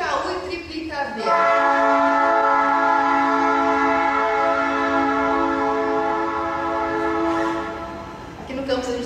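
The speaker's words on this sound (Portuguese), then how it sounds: "Aqui no campus a gente tem problema do trem, que ele aplica de vez em quando." Train horn from a train passing near a university campus, one long sustained blast of about seven seconds, loud and fairly close, rising out of rumbling background noise and fading at the end.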